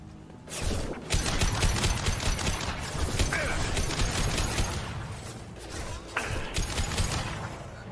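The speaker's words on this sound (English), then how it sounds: "Firing concussive shot" Concussive shot ability firing in Mass Effect 2 combat, a loud dense stretch of gunfire, mechanical clatter and impacts after a brief quiet start, with a short dip near the end before the noise resumes.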